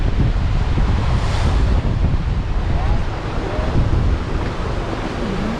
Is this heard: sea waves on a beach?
yes